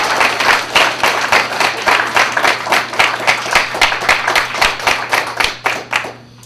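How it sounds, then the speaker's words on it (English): Audience applause at a Vietnamese community gathering in Washington DC, 2009: dense, steady clapping from a roomful of people, loud and sustained, with individual claps audible, thinning out at the end. "Someone's going to clap, so let's clap."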